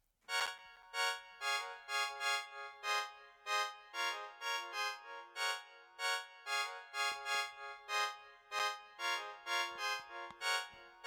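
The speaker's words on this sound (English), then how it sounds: "It's an organ sound." An organ accordion preset plays a bright, reedy melody in short rhythmic stabs, each note trailing into reverb and delay echoes, clean and alone without any voices.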